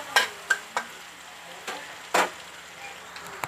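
Tomatoes cooking down in a pan sizzle softly, broken by a few sharp scrapes and taps of a spoon stirring against the metal, close and fairly quiet with no talking.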